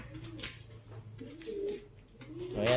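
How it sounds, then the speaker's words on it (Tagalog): A pet pigeon gives soft, low cooing calls at close range, a few throaty coos rising and falling over quiet background rustle. "Tol Andre, ito yung ibon mo."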